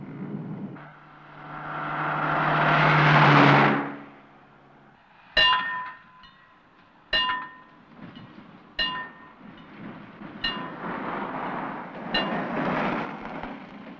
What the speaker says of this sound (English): Does that train always pass at 6:30?